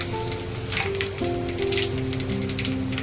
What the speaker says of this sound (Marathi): कांदा आता टाकूया आपण